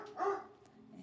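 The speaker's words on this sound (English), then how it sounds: "I'm gonna let her bark." A dog gives a single short bark close by, loud against a quiet background, with no talking.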